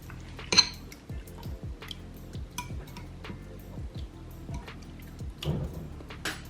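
A spoon stirs a creamy lemon garlic sauce with milk and hot sauce in a pan, light repeated scraping and metallic clinks against the pan over a faint liquid slosh.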